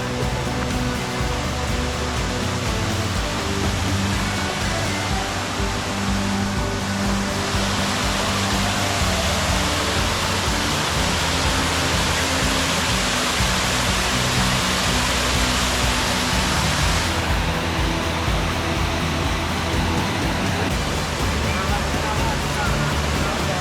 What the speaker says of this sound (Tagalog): Cambugahay Falls.